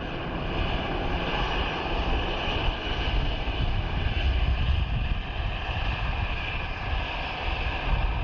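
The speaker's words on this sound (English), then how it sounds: "Taxiing into Sierra 5." A jet airliner taxiing at Dublin Airport gives a steady, broadband engine roar with a constant whine, heard from a moderate distance and continuous throughout without speech.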